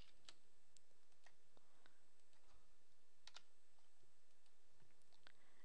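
Soft, scattered keystrokes on a computer keyboard, quiet and irregular, typed alone in a hushed room while filling in a registration form.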